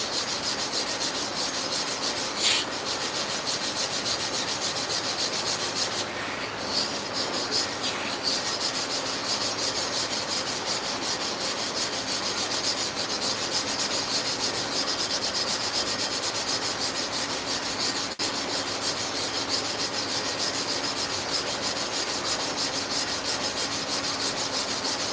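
Steady rubbing and scraping of abrasive grit being spread by hand across the porous surface of a clipper blade sharpening plate, continuous and close, with no talking.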